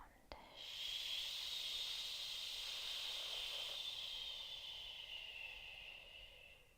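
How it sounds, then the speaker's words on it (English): A soft SH exhale is released close to the ear after a short sniff of breath, a sustained hiss that slowly fades over several seconds without other sounds. "Release with an SH sound."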